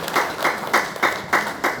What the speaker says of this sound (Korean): 박수로 여러분 격려해 주시기 바랍니다.